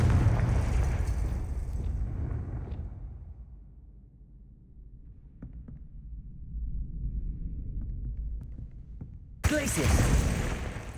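In the video game Hogwarts Legacy, a Confringo spell goes off as a loud fiery burst that rumbles away into quiet. Faint clicks follow, then another sharp blast near the end.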